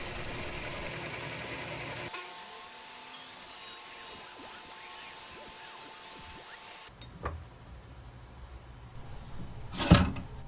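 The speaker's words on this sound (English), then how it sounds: "Now using your 1-inch Forstner bit, you can go ahead and cut the 2 ends of our hole where our hand goes." A 1-inch Forstner bit boring into a wooden serving tray board, a steady motor whine with a hissing cutting tone for several seconds that stops abruptly, followed by a few clunks and handling knocks nearby.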